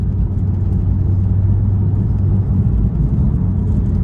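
Porsche 996 Turbo fitted with a Fabspeed Gen 1 exhaust and 100-cell cats pulls in third gear from low revs, giving a steady, deep engine rumble that stays loud and even throughout.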